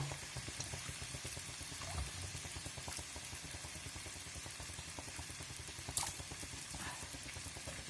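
Steady, dense crackling and sizzling of uncovered potatoes frying in a pan, fairly quiet and continuous, with an occasional louder pop.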